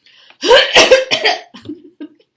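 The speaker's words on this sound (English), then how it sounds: "I want you to give me a big, big cough, an effortful cough" A loud, forceful voluntary cough burst during a motor speech examination, a couple of harsh explosive pulses up close, trailing off into a softer throaty sound.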